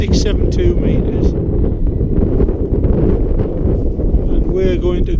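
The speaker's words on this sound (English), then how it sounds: "Bit blustery up here on the top." Strong wind roars across the microphone on the exposed summit of Brandrigg in the Howgill Fells, a continuous loud buffeting rumble with gusty fluctuations throughout, while a person speaks under it.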